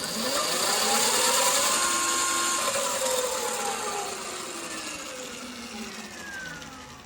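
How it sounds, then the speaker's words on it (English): An electric motor spins steadily on its bench setup under newly configured FOC control, a smooth whine with gliding tones that rise and fall, fairly close and fading slightly toward the end. "After going through the FOC setup again with the correct motor settings, it finally worked and the motor now spins."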